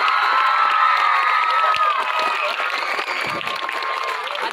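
A crowd at a film screening in Jejuri, including many schoolchildren, claps and cheers loudly throughout, with shouting voices over continuous applause.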